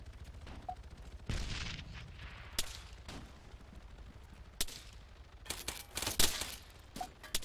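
Gunfire rings out in an Arma 3 King of the Hill match: several sharp, fairly distant rifle shots and short bursts, irregularly spaced, with quiet stretches in between.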